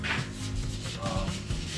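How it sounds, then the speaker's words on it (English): Hand sanding on the metal body of a 1949 Jeep Willys pickup, a steady close scraping rub with a few faint rhythmic strokes, quiet overall. "Let's do a little bit of sanding on this thing tonight."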